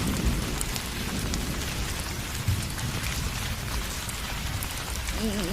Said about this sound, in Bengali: বাহির থেকে বৃষ্টির ঝমঝম শব্দ শোনা যাচ্ছে।